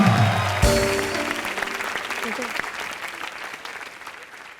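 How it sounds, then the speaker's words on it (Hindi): A comedy TV show's studio audience breaks into loud applause right after a brief musical sting. The clapping then fades gradually over the next few seconds. "श्रद्धा के लिए और उसकी पप्पी के लिए जोरदार तालियां।"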